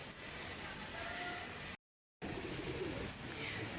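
Red-eyed pigeons kept by a pigeon fancier, soft low cooing close by against a steady background hiss, broken by a brief moment of silence midway.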